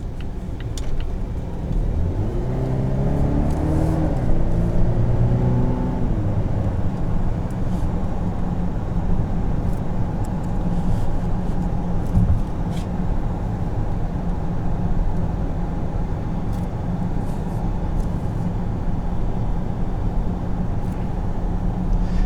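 Cabin of a 2019 Volvo XC90 driving around town, a steady low engine and road rumble with a rising whine as it accelerates early on, then a constant drone throughout, no talking.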